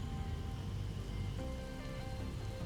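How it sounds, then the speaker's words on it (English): Steady rainfall patters on surfaces in an even, continuous hiss that stays constant throughout, with no voices over it. "Does anybody else hear rainfall?"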